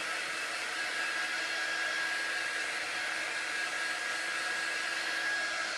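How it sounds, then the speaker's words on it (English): A steady, even whoosh of blowing air from a dryer runs continuously, with a faint high whine on top and no pauses. "the reason we use an air dryer over a blow dryer"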